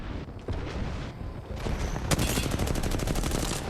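Rapid gunfire in Apex Legends, dense bursts of shots crackling almost without pause, loud and close, with a heavier volley building in the second half.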